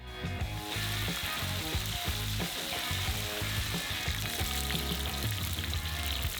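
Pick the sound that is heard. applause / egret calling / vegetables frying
vegetables frying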